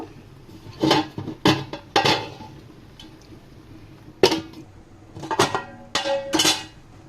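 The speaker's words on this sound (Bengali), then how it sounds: "একদম ঢাকনা দিয়ে আমি ডেকে দিব" A lid goes onto a chicken biryani cooking pot with several sharp metallic clanks and clinks, spaced irregularly against a quiet kitchen background.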